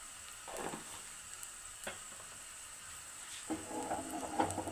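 Mustard seeds and chili flakes crackle and sizzle in hot oil in a home kitchen, a steady low fry with a few sharper pops and a louder bubbling surge near the end, with no talking.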